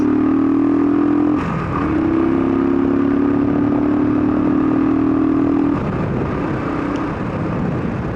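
Royal Enfield Thunderbird 350 single-cylinder motorcycle from 2016, heavy at about 200 kilograms, pulling at full throttle: a loud, steady engine drone with a rising note that dips briefly and then holds, with wind rush over it and no talk.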